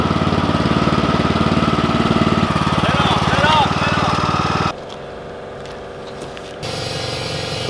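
A homestead lawn tractor engine runs steadily at close range with a dense mid-range drone, dropping to a quieter idle partway through before rising again; voices talk over the engine.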